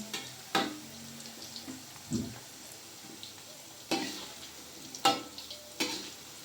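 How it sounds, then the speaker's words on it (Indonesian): Tempeh frying in a pan in a small rented-room kitchen: a steady soft sizzle, broken by occasional sharp clicks and clatters of a utensil stirring and turning the pieces. "ini tempenya kita goreng sampai matang"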